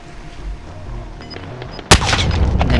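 Gunfire hitting the player in Call of Duty: Warzone, a sudden sharp loud crack followed by a rapid run of close impacts and shots over a low background rumble.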